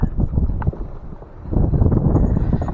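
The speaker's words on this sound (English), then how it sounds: "We got wind." Wind gusting on open water while bass fishing from a boat, a loud, rumbling buffet across the microphone that eases briefly and then surges back.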